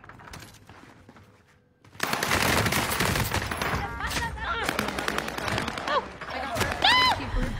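Rapid video game gunfire erupts after a quieter opening, dense bursts of shots crackling loudly and continuously, with voices talking over the action.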